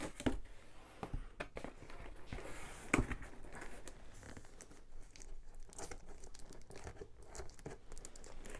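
Packing tape stripped off a heavily taped Stamperia craft kit box during unboxing, with close crinkling, crackling and ripping of tape and cardboard running steadily throughout.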